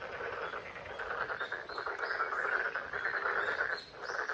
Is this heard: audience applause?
no